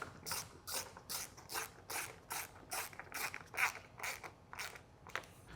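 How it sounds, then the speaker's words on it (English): Rapid ratchet clicks from a hand tool tightening bumper fasteners on a 2015-2017 Ford Mustang GT500, in a steady series of short bursts, close and fairly quiet, with no talking. "Now I'm just going to make my way across the bumper, tightening all these up."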